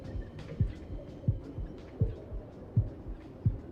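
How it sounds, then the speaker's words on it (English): Low, muffled heartbeat thumps at close range, a steady double-beat pulse repeating about every 0.7 seconds, alone with no talking. "I can hear my heartbeat."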